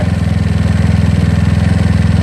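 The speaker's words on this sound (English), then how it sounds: "You hear the engine pretty much revving and roaring." GY6 scooter engine fitted with a 30mm PWK carburetor, revving hard after a carburetor adjustment, a loud, close, rapid pulsing roar with even firing beats and no talking.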